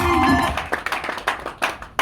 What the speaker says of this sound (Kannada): ಒಂದು ಜೋರು ಚಪ್ಪಾಳೆ ಬಾಸಿದಕ್ಕೆ